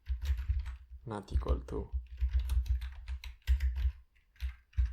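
Code is typed on a computer keyboard in quick clusters of close key clicks while someone speaks over the tapping.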